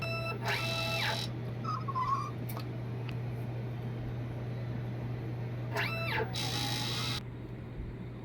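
A Luna 60cm DTF printer runs a nozzle check, giving a steady mechanical hum with two bursts of carriage movement near the start and again near the end, heard close and alone with no talk.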